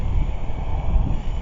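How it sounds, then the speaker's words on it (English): Cold wind blowing outdoors rumbles continuously and fairly loud against the microphone, a low, steady roar with no other clear sounds. "Yeah, it definitely is cold, windy."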